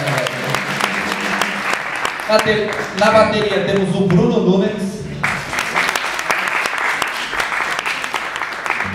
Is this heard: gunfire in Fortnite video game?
no